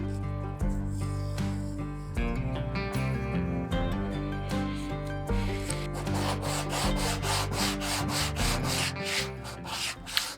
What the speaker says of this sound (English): we could cut the exposed handle off with a flush cut saw